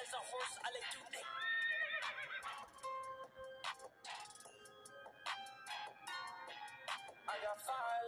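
Horse neighing sound effect, a series of loud, shrill whinnies that rise and fall with quavering pitch, repeating through the whole stretch over a faint backing.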